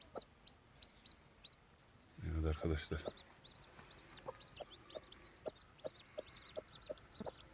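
A turkey hen hatching chicks under a staircase clucks softly in a steady repeated rhythm, with high chick peeps above, close and faint; a voice speaks briefly.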